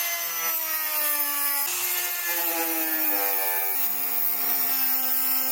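A small rotary cutting disc, lightly coated with silicone paste, whines steadily as it cuts through the plastic housing of a Peugeot RCZ third brake light, its pitch shifting slightly under load throughout.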